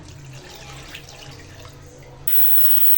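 A glass of water streams and splashes into a pot of meat with ginger and salt for namkeen gosht, steady and close, for a few seconds, with a brief shift in tone near the end.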